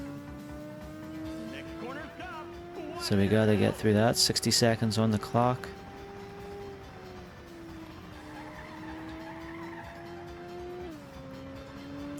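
A race car in Ridge Racer on the PS1 hums along with a steady engine drone, then its tires squeal in a loud burst of skidding for a few seconds before the engine tone rises and settles, with someone talking over it.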